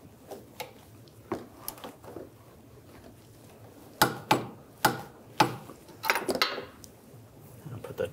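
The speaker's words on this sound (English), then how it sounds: "we'll torque this to 48 foot-pounds" A torque wrench ratchets on a front sway bar link nut of a 2013-2016 Dodge Dart, giving several sharp metallic clicks in a spaced series of close, distinct bursts with light handling noise between.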